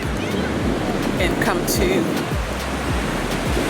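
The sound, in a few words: large ocean waves crashing on a black sand shore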